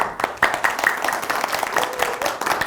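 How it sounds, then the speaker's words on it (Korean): Hearty applause from an audience at a lecture on the I Ching held for a CEO program at Dongguk University, with dense, close clapping that pulses unevenly for a few seconds. "여러분들에게 뜨거운 박수 한번 주십시다."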